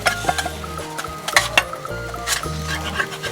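Tempe and chicken nuggets fry in a pan, with a steady sizzle broken by sharp clinks and scrapes of a utensil stirring against the metal, close and fairly loud.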